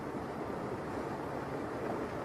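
Floodwater surges through flooded Houston streets in heavy rain, a dense, even roar of rushing water with no breaks, loud and close.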